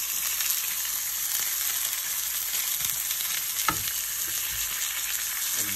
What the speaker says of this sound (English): I'm gonna add a little bit of butter to it.